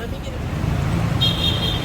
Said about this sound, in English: So we gotta cross this busy street to get back to the car.